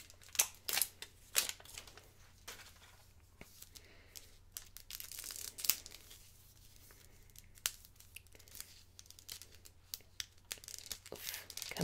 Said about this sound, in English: These are a lot harder to nicely tear as they once were.